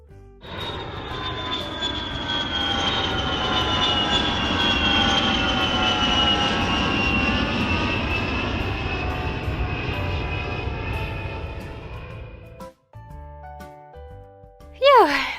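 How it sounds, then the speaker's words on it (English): An airplane engine roars steadily through a takeoff, a sustained loud whine with a rising tone that cuts off abruptly near the end, followed by brief clicks and a sharp high sound. "We are taking off."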